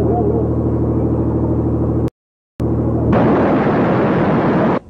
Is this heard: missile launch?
yes